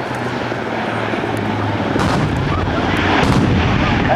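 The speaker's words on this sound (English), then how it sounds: "An explosion from long-range artillery begins to suppress the enemy forces." Long-range artillery explosions at an Air National Guard combined-arms airshow demo rumble through a constant loud roar of aircraft, with heavier booming bursts swelling near the middle and end.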